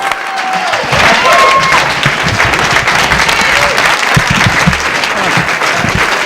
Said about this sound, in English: Please, a nice round of applause for Mr. Paul Kozlowski.